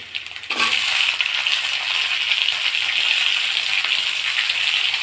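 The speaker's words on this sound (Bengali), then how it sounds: "তারপর এখানে দেবো টমেটো" Chopped tomatoes drop into a hot pan of oil and ginger for a Bengali soybean curry, bursting into a loud, steady sizzle and frying crackle that holds strong and close throughout after the first half second.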